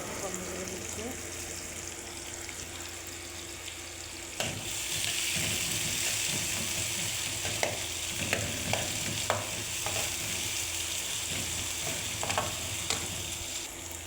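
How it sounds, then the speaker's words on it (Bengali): Onion and chili fry in a little oil in a pan for red amaranth greens, a steady close sizzle that jumps louder partway through, with repeated scraping stirs and someone talking over it. "পেঁয়াজটা হয়ে গেছে, পেঁয়াজটা ভাজা ভাজা করলাম।"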